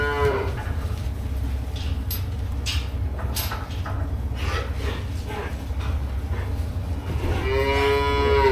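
Cattle on a farm moo loudly, with one long low call at the start and another near the end, over a constant rumble of background noise and scattered knocks from the pens.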